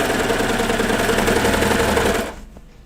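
Baby Lock serger sewing and trimming fabric for kid's pajama bottoms, a loud close whirring hum with rapid needle chatter that runs steadily, then winds down and stops near the end.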